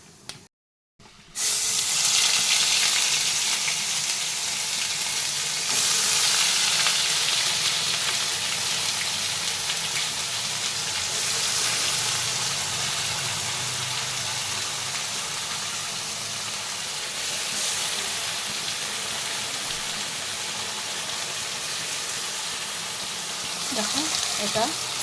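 Ground masala paste dropped into hot oil with bay leaves and cumin, a loud sudden hiss after a short silence that settles into a continuous spattering fry, with a few faint clinks near the end.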